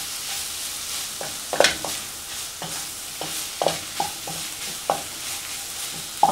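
Ground red paprika fries briefly in a pan with soy meat and vegetables, a soft steady sizzle punctuated by regular spoon strokes scraping and tapping the pan close by.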